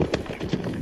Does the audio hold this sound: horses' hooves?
yes